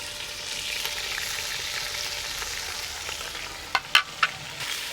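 About half a kilo of onions frying in a pan for aloo keema, a dense steady hiss and sizzle close up, with a few sharp clinks of a utensil near the end and no speech.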